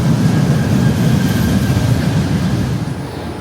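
A passenger train travelling toward Kuala Lumpur, Malaysia, rumbles steadily with a dense, low roar of wheels and carriage noise, heard from on board with no voices.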